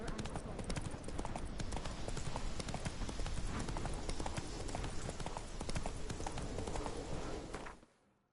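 Roach, Geralt's horse in The Witcher game, trots with steady, close hoof clip-clops on a firm path, continuing at an even pace for several seconds before cutting out abruptly.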